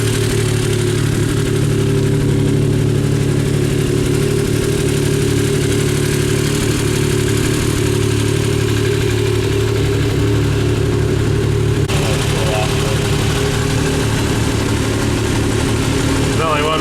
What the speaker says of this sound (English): Trying to get this thing up to temp. Do some heat cycles on the new motor.